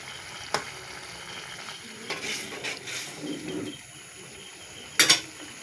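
Potatoes frying in a pan, a soft steady sizzle with occasional scrapes and clinks as a spatula stirs them, plus a sharp metallic tap near the end.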